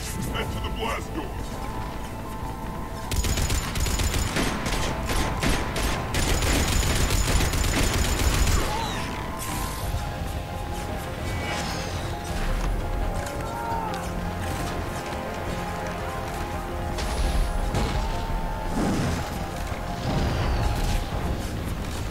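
Heavy cannon and gunfire in the sci-fi video game Mass Effect 3, set in a war zone on Omega, booming in dense volleys and continuous battle noise alongside music, with voices speaking over the fighting.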